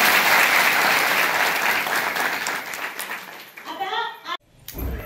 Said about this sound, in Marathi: आपल्या या छोट्या छोट्या लहानशा लाभार्थ्यांसाठी एकदम जोरदार टाळ्या।